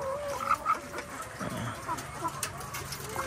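RTL chickens on a farm give soft, intermittent clucks and short calls over a steady background of other birds and barn noise, with someone speaking nearby.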